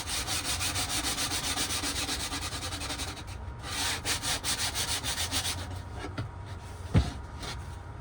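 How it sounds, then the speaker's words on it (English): Wood being hand-sanded so it will fit into a slot, heard as steady rhythmic back-and-forth rubbing strokes up close, with one short pause midway and a brief knock near the end, and no talk. "We're just gonna give it a good sand until it fits in that little slot."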